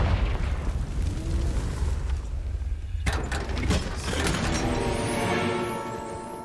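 A Confringo spell explosion in Hogwarts Legacy, a loud blast at about three seconds within a continuous roar of game noise and rumbling effects.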